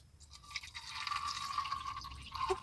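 Water is poured into a small container for a lettuce stem, a short trickling, filling splash with rising gurgle tones that stops abruptly near the end.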